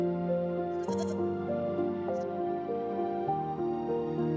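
Two nearly identical goats bleat in repeated wavering calls over a sustained musical backdrop, the animal voices fairly clear and close rather than distant.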